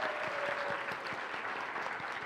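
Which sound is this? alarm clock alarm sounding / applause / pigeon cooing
applause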